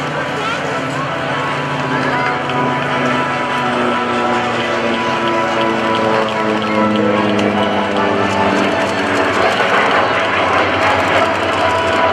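Vintage and modern US Navy aircraft of the Tailhook Legacy Flight pass overhead, heard as a steady, loud engine roar with a slowly shifting drone across the whole stretch, partly under public-address talk.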